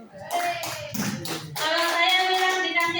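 A school audience of students at SMPN 3 Wonomulyo breaks into a short burst of hand clapping, mixed with excited young voices calling out close by.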